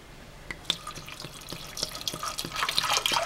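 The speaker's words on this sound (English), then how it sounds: "I'll add water." Water runs and splashes steadily into a pressure cooker holding dal, with small clinks and a gurgle that grows fuller toward the end.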